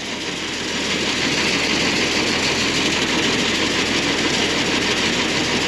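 A tractor engine runs steadily through the PTO, driving a new auger in a loud, continuous, unbroken drone with no talk over it.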